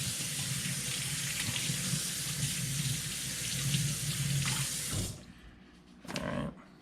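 A sheepshead being rinsed under a running tap, a steady rush of water splashing for about five seconds, then cutting off before a brief second burst.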